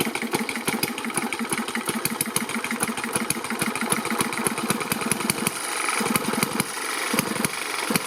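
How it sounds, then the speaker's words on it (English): A small model hit-and-miss engine chugs steadily at close range, firing in a rapid, uneven pulse that skips now and then, running alone without voices. "the prototypical hit and miss engine"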